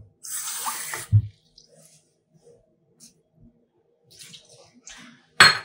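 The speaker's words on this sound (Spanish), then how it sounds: "Ahora le vamos a poner un poquito de aceite y le vamos a poner un poquito de agua también" Water is poured onto a seasoned lamb shoulder during a cooking class, giving a brief close splashing burst, followed by quiet handling clatter and a few faint knocks.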